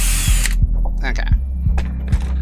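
A power drill fitted with a 5.5 mm bit bores out holes in short bursts: several quick whirring runs separated by clicks and rattles, loud and close.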